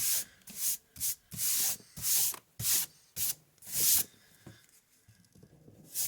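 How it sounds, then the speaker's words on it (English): Eraser rubbing pencil off drawing paper while cleaning up a snowman sketch, in about eight quick bursts of close scrubbing with short pauses, then trailing into softer, sparse strokes. "we're just erasing the bottom right now"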